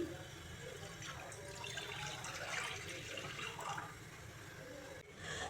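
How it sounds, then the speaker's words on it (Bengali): A glass of water is poured into a wok (kadai) to start a sugar syrup for palm-fruit pitha: a steady, close splashing pour that runs for several seconds without a break. "কড়াইতে আমি এক গ্লাস জল দিয়ে দিচ্ছি"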